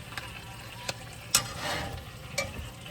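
Butter sizzles quietly in a frying pan, a low, steady hiss broken by a few sharp clicks and scrapes of a utensil, with no one talking.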